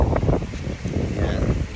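Wind gusts steadily across a seaside camp in Infanta, Quezon, buffeting the microphone with a low rumbling roar that swells and eases over a couple of seconds.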